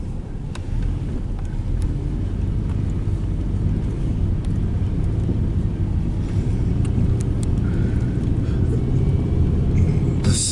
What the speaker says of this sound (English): you can see the cars between the trees coming down